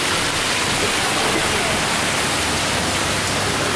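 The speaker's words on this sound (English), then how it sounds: "It's legit raining in here." Artificial indoor rain falls in a science center rainforest exhibit, a constant, loud, hissing wash of water spray with no breaks, dense and even like a downpour or nearby waterfall.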